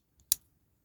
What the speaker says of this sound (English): Can hear it clicking.